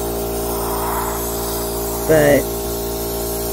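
A spray gun hisses steadily as it applies pottery glaze, a continuous airy spray over a low mechanical hum, briefly interrupted by a short spoken word.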